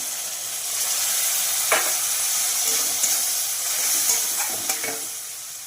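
A vegetarian banana flower curry simmers and hisses in a pan after water is poured in, a steady close sizzle broken by a few spoon scrapes and clinks, with no one speaking.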